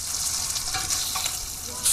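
Spam musubi pork fries in a pan, a steady close sizzle with light crackling and stirring, faint voices in the background.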